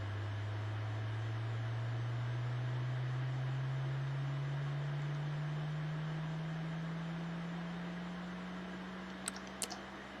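Jet engine spooling up during start in X-Plane 11, a low steady drone whose pitch rises gradually over several seconds, with a couple of faint clicks near the end.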